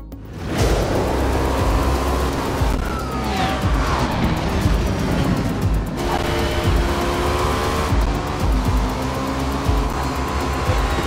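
Race cars roar through a full-field endurance race in Forza Motorsport at Hakone, Japan, engines loud and sustained with shifting pitch, whining passes and tire squeal layered continuously throughout.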